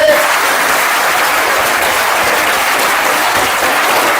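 A large audience at a public talk breaks into loud, dense applause, with continuous clapping from many hands that holds steady for several seconds before easing slightly.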